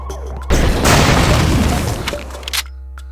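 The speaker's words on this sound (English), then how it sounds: "I'm gonna use a Gap rocket." One loud GEP rocket explosion in Deus Ex erupts with a deep booming blast and crackling debris that rumbles and fades over about two seconds, then a few small clatters.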